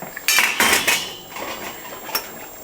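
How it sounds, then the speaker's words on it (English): A utensil scrapes and clanks inside a pot of chili for a quick stir, with a few loud metallic scrapes up front, softer stirring after, and a final light clink. "And I'm going to give it a quick stir and just see what it looks like."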